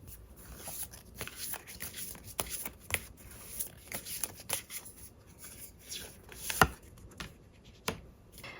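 A tarot deck being handled as a card is drawn, with repeated soft slaps, flicks and rubs of cards, including a couple of crisper snaps, all close and without talk.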